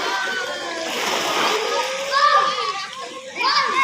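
Children splash and play in a swimming pool at an amusement park, the water sloshing close and loud throughout, with excited kids' voices and shouts mixed in over the splashing.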